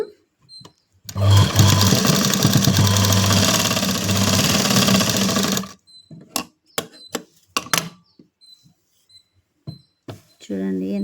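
A sewing machine runs in one sustained burst of fast, even stitching on a blouse, then stops, followed by scattered clicks and handling noises of fabric and machine parts.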